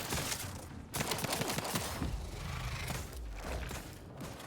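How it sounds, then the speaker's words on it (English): A single-shot pistol in Outer Worlds 2 fires in quick, loud bursts of crackling gunfire, one sharp shot after another, heard with no talking. "The hell kind of single shot pistol is this?"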